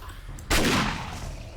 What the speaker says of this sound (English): See if I can make some good work with this shotgun.